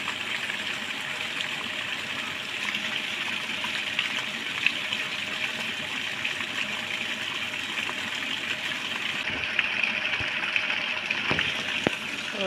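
A tubewell pump pours a strong, steady gush of water, a continuous loud rushing wash that holds for the whole stretch, with a couple of brief knocks near the end.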